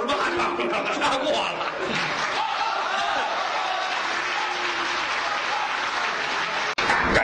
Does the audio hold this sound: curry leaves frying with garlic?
no